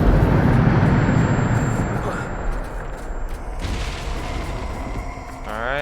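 A Bombarda explosion spell cast in Hogwarts Legacy, a loud low boom that rumbles and slowly fades, with a sweeping high whoosh at the end.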